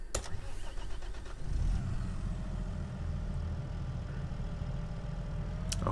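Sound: Deutz Fahr tractor engine starting in Farming Simulator 22 video game

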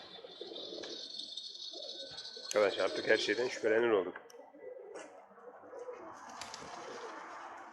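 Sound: pigeon cooing on the roof

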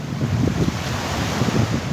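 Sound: sea waves and wind at Izmir seafront

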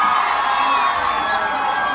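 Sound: concert audience applauding and cheering

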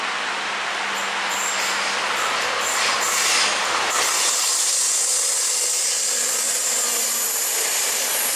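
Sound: regional express train pushed by a diesel locomotive

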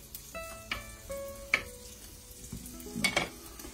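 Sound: guanciale sizzling in olive oil

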